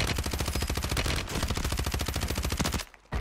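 Close, relentless submachine gun fire in Warzone 3 rattles out as one long rapid-fire burst that cuts off shortly before the end.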